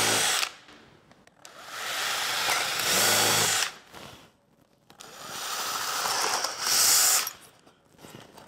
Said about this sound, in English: So we'll put a small pilot with a countersink, then I'll enlarge that hole as well.